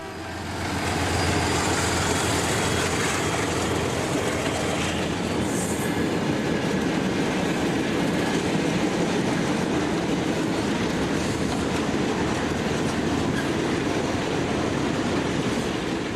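A pair of Portuguese diesel locomotives hauling a daily freight train, a loud, continuous rumble and rhythmic clatter of wagons rolling past close by, with no speech.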